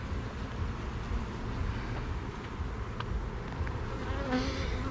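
Honey bees buzzing on a brood frame pulled from a hive during an inspection, a dense continuous drone close to the microphone with a few sharper passes of individual bees near the end.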